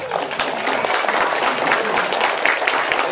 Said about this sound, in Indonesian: tepuk tangan dulu untuk anak-anak